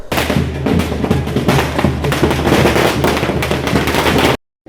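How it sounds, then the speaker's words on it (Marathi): Dense, rapid crackling and popping of fireworks going off continuously at a political welcome rally, loud and close, until the sound cuts out abruptly near the end. "तसंच फटाक्यांची आतशबाजी पुष्पवृष्टी करत"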